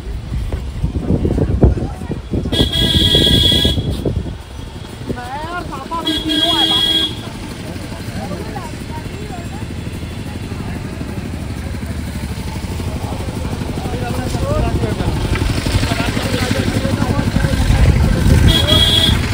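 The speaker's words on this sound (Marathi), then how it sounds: "त्यामुळे फुल ट्रॅफिक होते इकडं." Heavy pilgrim-route traffic at a packed roadside parking area in Sonprayag, Uttarakhand, with cars and motorcycles rumbling past and several bright horn toots standing out, some of them repeated, over a steady engine drone and faint background voices.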